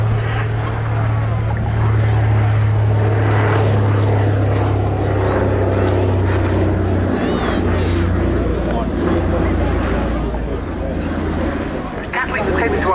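A Catalina flying boat drones past at an airshow at RAF Cosford, its propeller engines giving a steady low hum for the whole stretch, with a voice talking over it throughout.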